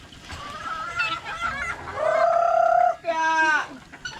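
Chickens cluck and squawk close by, a series of short calls followed by a longer drawn-out cackle with a few sharp bursts at the end.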